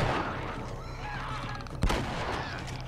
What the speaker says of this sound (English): Fucking shoot him in the legs.